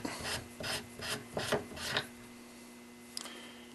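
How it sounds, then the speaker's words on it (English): Armorer's wrench working a rifle's handguard part loose, giving five close, rhythmic rasping turns, then silence and a faint click near the end. "Now we're going to take our armorer's wrench, and that's all it takes. Unscrew it,"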